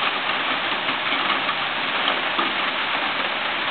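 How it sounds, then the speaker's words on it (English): Steady rain falls in a dense, even hiss close by, with no voices or other sounds breaking through. "It is a pretty rain, but nothing very dramatic other than Savina pole dancing."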